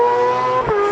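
A race car at the Pau-Arnos circuit sweeps through a turn, its engine note loud and steady and close by, then briefly dips and recovers as it takes the inside line, with no voices over it.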